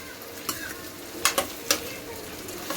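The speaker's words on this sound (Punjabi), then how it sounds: "ਇਸ ਤਰੀਕੇ ਨਾਲ ਮੈਂ ਪਾ ਦਿੱਤੇ ਨੇ ਆਲੂ" Potatoes sizzle as they fry in a pan for an onion and potato curry, a steady close crackle broken by several sharp scraping knocks as a spoon stirs them, with no talking.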